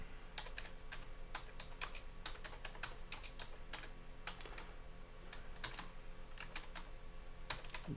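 Someone types on a computer keyboard while creating a folder in a VirtualBox virtual machine: rapid, irregular key clicks in close, continuous bursts with no talk.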